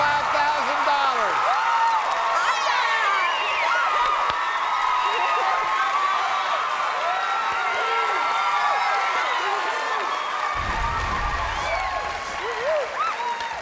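Loud, sustained applause and cheering from a game show studio audience, with whoops rising over the clapping throughout.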